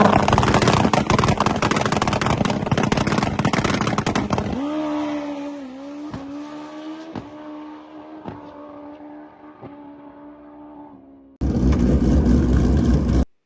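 Drag race car roaring down the strip at full throttle, loud and close, its engine note climbing through several upshifts before lifting, then a sudden burst of loud broadband noise at the end.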